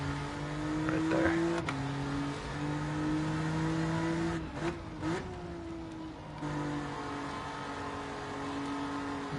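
A video game race car engine revs and drones with rising and falling pitch, briefly cutting out before settling into a steady, loud whine.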